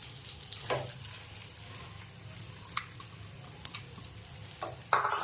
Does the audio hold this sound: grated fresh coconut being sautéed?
yes